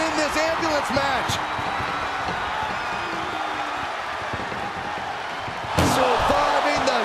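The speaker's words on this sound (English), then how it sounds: "Look at the struggle just to shut those doors shut." Ambulance doors are struggled shut during an ambulance match in WWE 2K24, with dull slams and thuds under a steady crowd roar and a commentator's voice, ending in a louder burst of impact.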